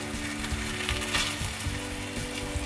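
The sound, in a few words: cauliflower tortilla cooking in a pan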